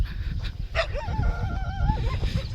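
Dogs on a road give high, wavering whines and short yips, moderately close, over a low outdoor rumble with footsteps or movement.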